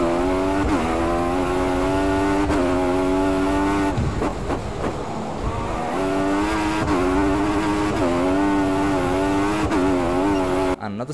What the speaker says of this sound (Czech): Každopádně samozřejmě jsou tady speciální, nádherné, nové motory.